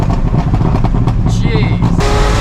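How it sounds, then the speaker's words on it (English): A Dodge Viper ACR engine revs hard toward the top of its range in fourth gear, a loud, close, rising roar with a sharp shift in tone near the end. "then you hit fourth, you hit the top of the rev range"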